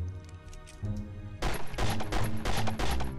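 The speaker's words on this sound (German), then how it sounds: "Der schießt hier irgendwo." Gunfire from the video game The Great Escape: rapid, loud bursts of shots that start abruptly after a quieter rumbling background and repeat in a dense rattling string, with no talking.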